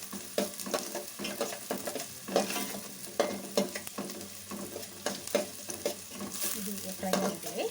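Masala idli frying and being stirred in a pan: a continuous sizzle is punctuated by repeated scraping and clinking strokes of a spatula against the pan, close and steady with no talking.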